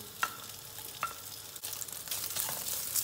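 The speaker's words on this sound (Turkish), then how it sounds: "Tavamız ısındı. Hemen yağı döküyoruz." Oil poured into a heated pan before cooking meat sizzles faintly at first, then swells into a steady hiss, with a few light clinks of utensils and no talking.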